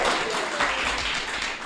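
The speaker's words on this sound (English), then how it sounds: "that's not a canned applause track, so those are real people who actually came to see us" Live audience applause at a writing conference podcast recording, a dense, steady burst of many hands clapping close up, sustained throughout without talk.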